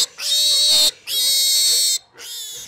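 Three loud, drawn-out pig squeals at a wildfire animal evacuation shelter, each a few tenths of a second apart, shrill and close, with no other sound between them.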